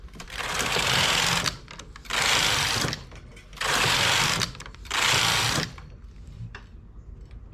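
A domestic knitting machine fitted with a ribber runs through four steady carriage passes of about a second each, loud and close. Each pass is a rushing mechanical clatter, with quiet pauses between passes.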